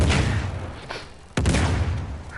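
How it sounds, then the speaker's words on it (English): Explosions and gunfire in the Uncharted 4 video game, multiplayer survival mode, with enemies dropping grenades: a loud burst, a lull, then a sharp blast followed by sustained rumbling fire, no talking. "when they got explosions like this going off and things"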